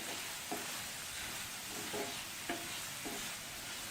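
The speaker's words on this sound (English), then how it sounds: "Just make sure the masala and the tofu is mixed together." Tofu pieces are stirred into masala in a pan for a dry ghee roast, heard as a faint steady sizzle with a few soft spatula scrapes spaced about a second apart.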